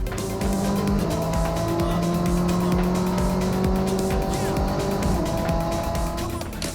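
Race car engine pulling hard and shifting up through the gears via a steering-wheel paddle, loud and close, pitch climbing and dropping with each upshift over a constant roar of road and wind noise.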